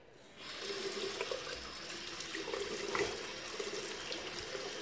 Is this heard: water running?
yes